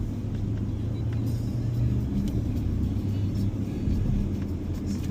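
Car cruising along a Spanish country road, heard from inside as a steady low engine and tyre rumble with a faint whir and no clear voices.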